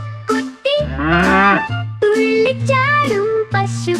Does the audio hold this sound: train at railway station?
no